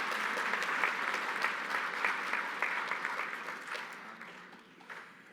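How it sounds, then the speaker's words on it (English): Warm, steady applause from a conference gathering audience, fairly distant and soft, gradually tapering off toward the end. "Can we have a round of applause for them"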